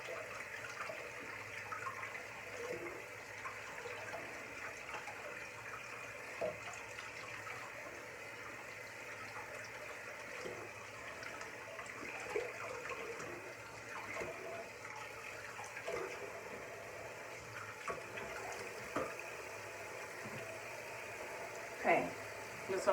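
Water runs steadily from a tap in a bathroom while a face is rinsed, a soft continuous wash with small splashes and shifts throughout, fairly quiet and with no talking.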